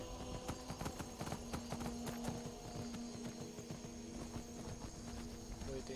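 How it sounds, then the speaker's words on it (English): Horse hooves clip-clop in a steady, quick rhythm over a faint low hum, soft and continuous throughout, while riding at night in Skyrim. "Riding the horses under the darkest night"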